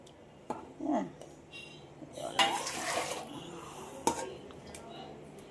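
Water is poured off from a cooking pot on a gas stove while making momos: a metallic clink, then a short splashy pour in the middle, followed by a sharp pot knock, all fairly quiet.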